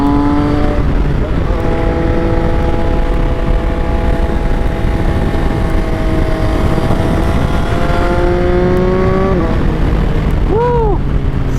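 A 2024 Yamaha XSR 900 three-cylinder motorcycle revs and pulls under way, engine tone climbing steadily then dropping with a gear change, loud and close over heavy wind rush.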